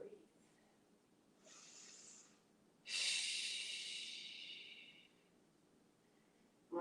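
Breathing during a yoga kneeling camel pose: a soft inhale followed by a long, louder hissing exhale through the mouth, close to the listener, with a brief voice at the very end.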